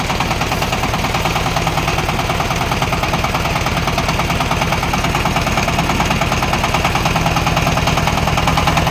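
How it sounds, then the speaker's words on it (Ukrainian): A Shifeng 350 mini tractor engine runs loudly and steadily nearby, with a fast, even mechanical chugging throughout. "Такий тракторець."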